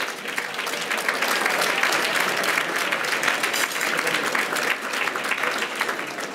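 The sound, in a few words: audience applause for debate fellows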